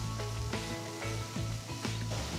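Chopped onion and garlic sautéing in oil in a pan, producing a steady close sizzle with a few soft stirring knocks.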